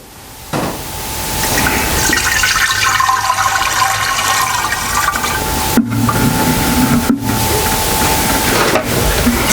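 A bleach and water sanitizing solution is poured into an Italian ice machine, producing a steady rushing, splashing flow of liquid that lasts several seconds with a few brief interruptions.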